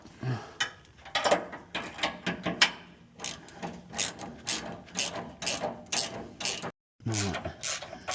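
A hand ratchet works a long bolt loose on a classic V8 Land Rover Defender during a fuel pump swap, clicking in repeated rhythmic strokes close by, with a brief pause near the end.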